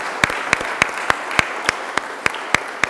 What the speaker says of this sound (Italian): non ci resta che ringraziarlo con grande applauso